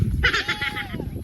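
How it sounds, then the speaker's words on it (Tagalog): A single goat left behind on a farm plot beside newly planted mulato grass on Mabini Street gives one long, close, wavering bleat over low background murmur. "Ito pala yung kambing natin"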